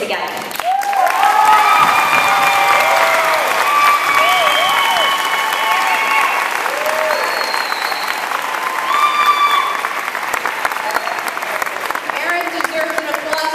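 A crowd at a New Britain education rally breaks into applause and cheering, with whoops and whistles rising over steady clapping for over ten seconds.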